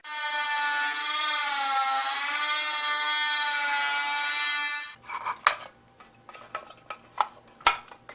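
A Dremel rotary tool whines at a high, steady pitch for about five seconds while cutting a square hole in plastic, then stops, followed by light scattered clicks and taps of handling.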